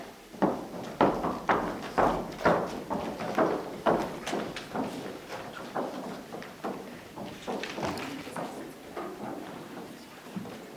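Horses' hooves clop in a steady walking rhythm, a long run of distinct close thuds that gradually soften slightly toward the end, with no talking over them.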